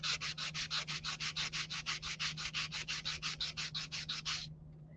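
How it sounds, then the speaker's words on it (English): Rhythmic back-and-forth strokes of 220-grit sandpaper rub a miniature retro stove, around twenty even, quick scrapes close to the mic over a faint steady hum, ending abruptly. "and sand the stove up"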